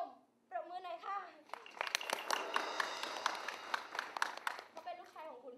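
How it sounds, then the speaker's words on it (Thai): Audience applause during a Thai stage performance introducing warrior characters: a dense, steady burst of many hands clapping for a few seconds, framed by someone speaking before and after it. "ปรบมือหน่อยค่ะ"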